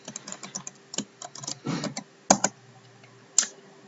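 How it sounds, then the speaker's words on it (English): Computer keyboard typing while entering commands in a Code Combat coding game, heard as bursts of close, quick key clicks with a couple of sharper isolated taps, alone without talk. "you're just helping Theron get to where he needs to go by typing in the code"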